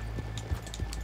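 Horse hooves clip-clop in a steady walking rhythm on a town street in Red Dead Redemption 2, several close, moderately loud footfalls in quick succession.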